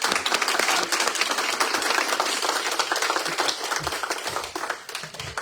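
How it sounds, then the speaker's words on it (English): Audience applause for teachers of the year at a school board meeting, a dense sustained burst of many hands clapping that stays loud throughout and thins slightly toward the end. "Let's give them a round of applause."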